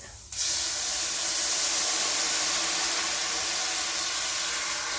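White wine poured into a hot pan of seared chicken bursts into a loud, steady steam hiss that starts abruptly and keeps sizzling evenly, close up, with no talking.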